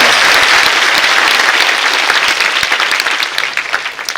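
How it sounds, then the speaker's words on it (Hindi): A church congregation claps for its leaders seated at the back during a preaching meeting, loud sustained applause from a large crowd that gradually thins and fades toward the end. "क्या हम सब इनके लिए ताली बजा सकते हैं?"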